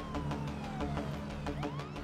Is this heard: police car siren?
yes